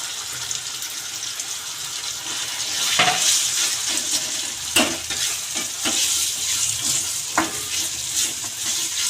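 Ginger garlic paste and tomato frying in a pan, a steady loud sizzle with occasional spoon scrapes and stirring clinks throughout.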